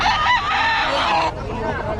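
A large rooster crows loudly and close by, one long drawn-out call that fills the clip, at a market in Bocaue.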